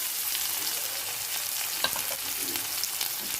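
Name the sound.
onions frying in a wok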